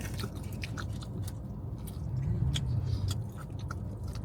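Close, soft chewing of a freshly grilled hotteok filled with pumpkin seeds, steady moist mastication with small crunches running throughout, with no talking.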